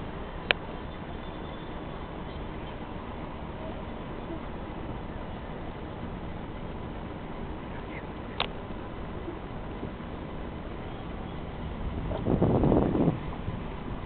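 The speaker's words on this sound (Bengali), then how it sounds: "হাওয়া দিচ্ছে" Wind blows steadily during a boat ride on the Hooghly river at Outram Ghat near Howrah Bridge, a constant low rush against the microphone with faint boat sounds and brief voices near the end.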